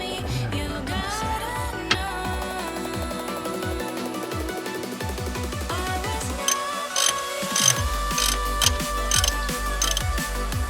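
A ratcheting wrench loosens a bolt on the air conditioning compressor of a Subaru Sambar TV1, producing rapid repeated clicking ratchet strokes in close-up bursts that continue throughout.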